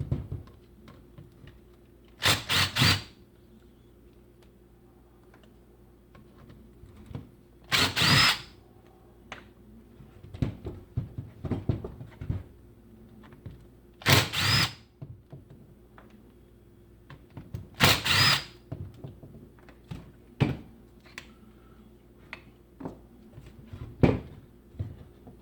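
A cordless power driver backs Allen screws out of a Milwaukee Sawzall's housing during a repair, four loud whirring bursts spaced several seconds apart, with small clicks and handling taps between them, close up and without speech.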